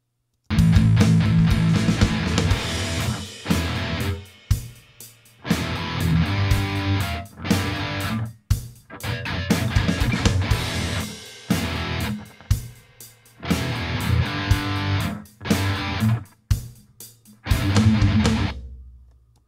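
Logic Pro X Drummer drum track playing loud, punchy hits in repeated phrases with short gaps between sections, with no talking.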